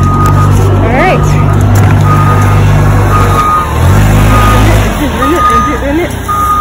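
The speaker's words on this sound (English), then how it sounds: "forklift, giant machine" Forklift reversing beeps at a Home Depot store, a steady repeating beep under a low truck engine hum, with people talking nearby throughout.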